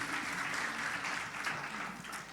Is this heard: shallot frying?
no